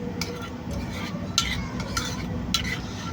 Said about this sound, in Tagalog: Mikos ng maigi.